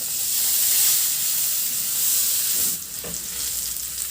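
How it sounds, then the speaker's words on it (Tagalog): Minced garlic sizzles in a little oil in a hot pan for a Filipino sweet and sour pompano dish, a loud steady frying hiss with a brief stir and clatter near the end. "Sa disim na kawali, binawasan ko lang yung mantika, igisa ko na yung bawang."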